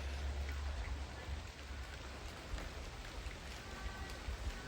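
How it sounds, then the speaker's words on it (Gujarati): Steady heavy rain hisses continuously, a dense wash of falling water with a low rumbling undertone and no pauses. "આજે વરસાદ જોરદાર ચાલુ છે"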